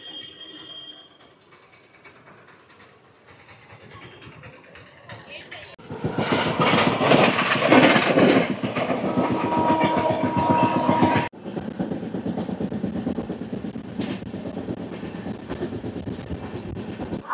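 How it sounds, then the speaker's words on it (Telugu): The Tirupati AC Double Decker Express, train 22707 from Visakhapatnam, rolls through Tirupati railway station, a loud rumbling roar with rhythmic wheel clatter and squeal building up midway, while someone talks over the quieter opening. "మన ఆంధ్రప్రదేశ్లోనే ఫస్ట్ డబుల్ డెక్కర్ ఎక్స్ప్రెస్ ఇది"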